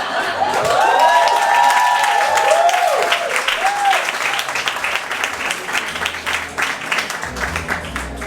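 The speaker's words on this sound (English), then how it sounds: "Make some noise for Alysia, y'all" Loud audience applause with cheering and whoops from a crowd, sustained across the whole stretch and slowly thinning toward the end.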